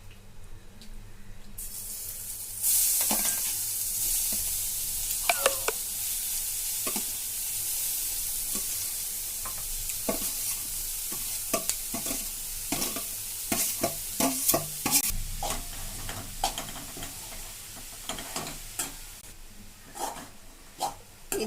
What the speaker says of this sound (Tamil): பாத்திரத்துல கொஞ்சம் நம்ம திருவி வச்சிருந்த கேரட்டை போட்டு வதக்கணும்